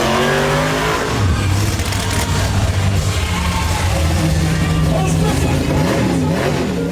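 An American 1300-horsepower monster truck at a stunt show revs its engine loudly, rising and falling roars with rough low growl, close and continuous, with people talking over the noise.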